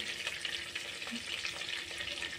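Butter melted into oil sizzles in a pan over low heat at the start of a butter chicken masala, a faint, steady crackle lasting a couple of seconds.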